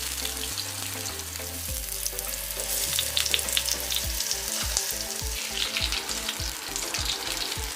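Potatoes fry in hot oil with a bay leaf, a dense, steady sizzle and crackle with occasional stirring, backed by a low rhythmic music bed.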